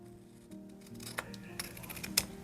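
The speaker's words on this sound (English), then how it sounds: "I'll cut the excess." Big scissors snipping away excess paper, a few short crisp cuts spaced irregularly, close and fairly quiet.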